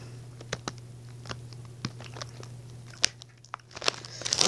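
Flaming Hot Cheetos are bitten and crunched up close in a series of sharp, irregular crunches over a low steady hum, growing busier toward the end.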